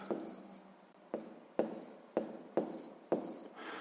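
A pen writing out a maths solution on paper, a series of six short scratchy strokes with pauses between, close and quiet, with no talk.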